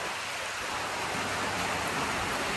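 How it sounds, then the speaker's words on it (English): Heavy rain pours down steadily outdoors, a dense, unbroken hiss of drops hitting the ground with no pauses and no voices. "it's chucking it down with rain"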